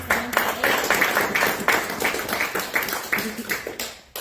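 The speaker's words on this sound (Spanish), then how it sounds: "Un fuerte voto de aplauso también para" Steady audience applause at a welcome event, dense clapping from a crowd that holds at a moderate level for a few seconds and then thins out, with a faint voice underneath.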